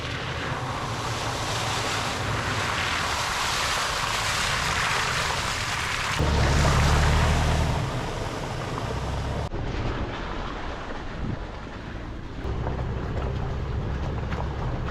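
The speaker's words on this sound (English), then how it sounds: "We're driving up a road with the stream going right through the middle." A vehicle climbing a backcountry road in Colorado's Flat Tops Wilderness with a stream running down the middle, loud steady rushing water and wind noise, a heavier surge midway, then a rumbling engine and splashing.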